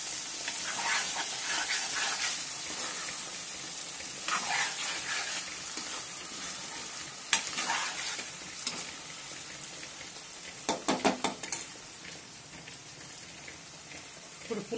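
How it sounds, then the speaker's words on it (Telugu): Fried taro dusted with chili powder is stirred in a hot village-style pan, a soft continuous sizzle with scattered spoon scrapes and a quick cluster of clinks near the end. "కారం వేసుకుని కొద్దిగా కలిపించుకుని"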